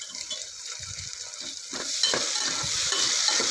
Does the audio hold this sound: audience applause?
no